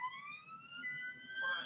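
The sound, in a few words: police car siren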